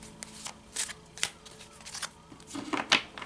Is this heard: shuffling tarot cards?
yes